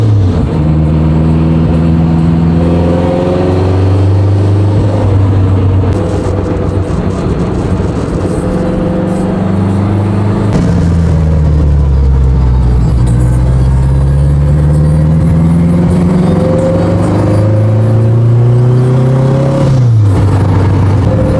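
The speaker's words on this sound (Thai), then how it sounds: "อันนี้เป็น K โทโบเลยซาวท่อตรง ซาวเดือดเลย" Honda NSX fitted with a K24 turbo engine and straight-pipe exhaust, heard loud and close: a continuous deep engine drone rising and falling through several rev swells and gear changes, with no talk.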